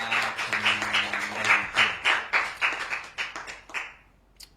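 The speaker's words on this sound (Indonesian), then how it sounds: "Nah, tepuk tangan luar biasa untuk Mbak Eka." An audience claps hands in a loose rhythmic pattern, pulses of clapping swelling and fading in waves, fairly close and clear, before tapering off to near silence at the end.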